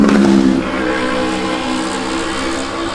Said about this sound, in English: Why do you need your motorcycle so loud?